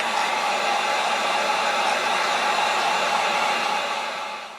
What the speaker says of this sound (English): Going to put a wrap on this, so get the heat gun out.